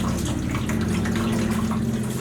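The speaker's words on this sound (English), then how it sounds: "We have the water draining, got a nice pan set up" Water draining from the radiator hose of a 1970 Plymouth Duster 340 drag car into a pan, a steady close splashing pour with a constant trickling rush and no voices.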